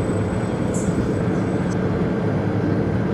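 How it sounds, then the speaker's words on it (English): A train arrives at a station in a Roblox video game with a steady mechanical rumble and hum, accompanied by a couple of brief high squeals or chimes early on, moderately loud and continuous. "Train approaching. Please remain behind yellow line."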